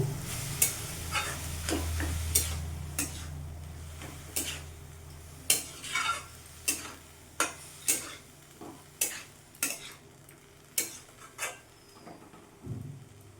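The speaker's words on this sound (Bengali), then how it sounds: "এবার সেদ্ধ করে রাখা মোচাটা দিয়ে দেবো গ্যাসের ফ্লেমটা মিডিয়াম রাখবো ভালো করে মিশিয়ে নেব" Boiled banana flower stirred in a pan over a medium gas flame, a soft sizzle under a run of regular spatula taps and scrapes against the pan, close and clear, no speech.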